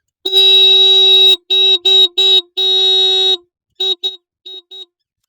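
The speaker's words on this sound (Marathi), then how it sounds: "आता हे पक्षी हॉर्न वाजवल्यावर कसे पळते बघा" A vehicle horn honks loudly and close by: one long blast, several short bursts, then a few quick light taps.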